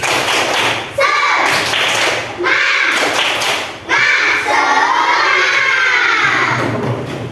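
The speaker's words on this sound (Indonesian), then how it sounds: "Tepuk semangat dulu. Tepuk semangat." A class of primary schoolchildren performs a rhythmic spirit clap, bursts of patterned clapping and thumping broken by brief pauses, mixed with loud children's chanting and shouting, close and energetic.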